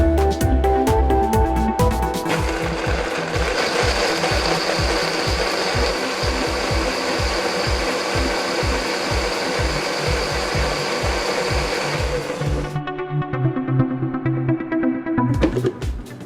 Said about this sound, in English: Some more milk is going to go in so that it's properly grinded.